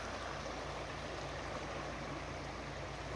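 Fast-flowing Lillooet River in Pemberton rushing as a steady, dense roar of water, close and constant throughout, with no talk.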